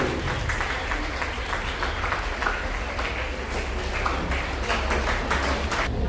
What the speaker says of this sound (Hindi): बच्चों जोरदार तालियां बजती रहनी चाहिए जब तक निर्णायक आसन न ग्रहण कर ले।